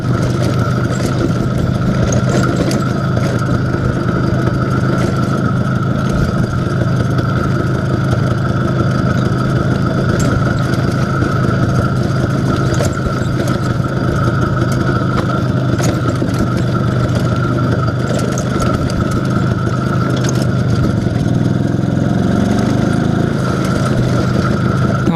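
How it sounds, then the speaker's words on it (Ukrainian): An IZH Planeta 5 motorcycle engine idling steadily nearby after a crankshaft oil seal replacement, a continuous even putter that holds without revving. "Тепер гарно мотор працює, ідеально."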